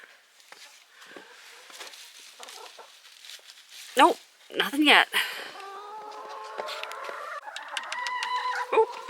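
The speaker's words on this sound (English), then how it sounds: "Hi, chicken." Chickens clucking and squawking inside a snowy-winter farm coop, a few loud close squawks mid-way amid soft murmuring clucks, while someone talks quietly over them.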